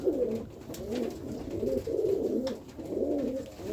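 Pigeons coo in a steady run of low, rolling phrases, close and fairly loud, with no voices over them.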